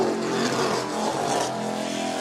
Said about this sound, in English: That engine sounds a little off.